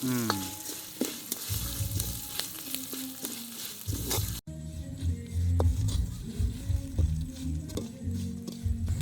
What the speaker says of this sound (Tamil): அதோடய அளவான கடுகும் சேர்த்துக்கொள்வோம். எல்லாத்தையும் சேர்த்து நல்லா வதக்கி விடுவோம்.